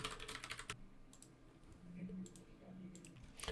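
Code is being typed on a computer keyboard in short bursts of quick, close clicking keystrokes, separated by quiet pauses in a calm indoor room.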